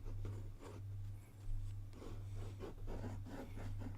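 A fountain pen with a stub nib scratches softly across paper in a run of short, faint, close strokes, with no talking.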